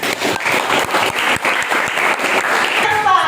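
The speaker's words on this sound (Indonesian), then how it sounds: "Tepuk tangan dulu ya." Students in a classroom lesson burst into loud, dense applause that continues steadily for several seconds, with voices mixed in.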